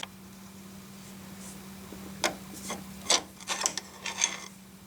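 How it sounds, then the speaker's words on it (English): Shift cables being pried off a transmission with a screwdriver on a front-wheel-drive Chevrolet Cobalt SS with a 2.0-liter turbo and F35/F40 six-speed, giving a few scattered close metallic scrapes and pops over a steady low hum. "you just use a screwdriver and you just pry up on them and they should pop right off"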